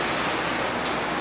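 Rain falls steadily in a workshop setting where a vacuum-actuated 4x4 free-lock hub is being modified, a dense hiss that is louder for the first half second and then settles into a softer, continuous wash.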